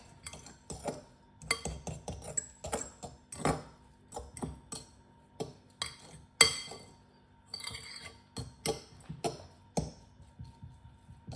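Utensils clinking against a bowl while garlic, chilli and ginger are mixed for Thai fish cakes, a run of irregular close metallic taps and scrapes with short pauses between them.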